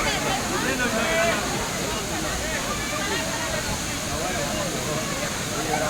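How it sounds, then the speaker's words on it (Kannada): Vibhuti Falls rushes steadily in a forest trekking spot, a constant broadband roar of falling water heard from nearby, with people talking over it. "ಜರಿ ಸೌಂಡ್, ನೀರಿನ ಜರಿ ಬರುತ್ತಲ್ಲ, ಅದ್ರ ಸೌಂಡ್ ಎಷ್ಟು ಚೆನ್ನಾಗಿ ಕೇಳಿಸ್ತಾ ಇತ್ತು"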